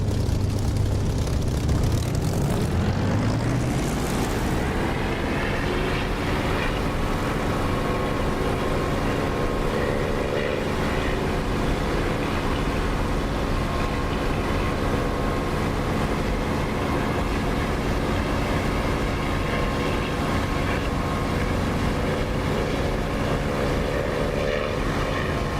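A propeller aircraft engine in the DCS flight simulator throttles up after brake release, its drone rising in pitch over the first few seconds and then holding a loud, steady roar.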